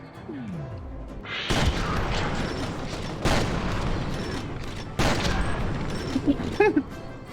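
Shotgun blasts in the first-person shooter FEAR, a few heavy booming shots with dense crashing impacts and game noise, loud and close.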